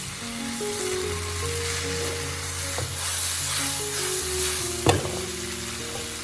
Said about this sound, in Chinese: 这个时候要开大火不停地翻炒，让冬瓜的表面吸收到西红柿的汤汁